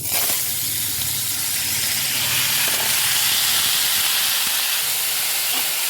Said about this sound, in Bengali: তেলটা আমার গরম হয়ে গেছে আমি অল্প একটুখানি সাদা তেল দিয়েছি এর মধ্যে সব সবজিগুলো একসঙ্গে দিয়ে দেব